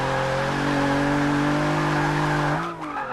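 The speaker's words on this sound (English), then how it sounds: "it feels like it's definitely spinning more tire" A Nissan 350Z revs hard and spins its tires, a loud sustained engine roar with tire squeal held steadily close by, then dropping off abruptly near the end.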